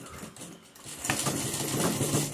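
A sewing machine stitching a dress runs in a steady, rapid mechanical whir with fine rhythmic ticking, close and fairly loud, after a brief quieter start.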